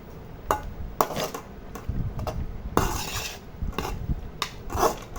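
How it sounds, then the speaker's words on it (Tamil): Beetroot rice being stirred in a metal pot, a spoon scraping and knocking against the sides in irregular strokes, close and clear with no talking. "இப்படி நல்லா நல்லா இப்படி கிளறி விட்டுக்கோங்க"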